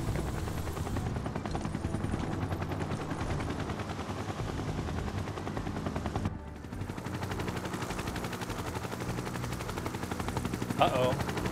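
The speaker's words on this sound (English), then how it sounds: "There's the helicopters." Helicopters and rapid gunfire sound together in the video game Final Fantasy 7 Rebirth, forming a steady, dense roar of machine-gun bursts and rotor noise with a short dip midway. A person talks over it.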